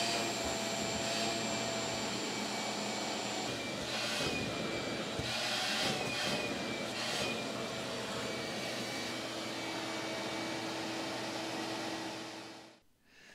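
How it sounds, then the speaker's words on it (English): A wet dry vacuum sucking debris from a dry barn floor drain, a continuous loud whining roar with brief gurgling surges of rattling grit, cutting off abruptly near the end. "I'm going to try a wet dry vacuum and see if any of this will just pull out of there."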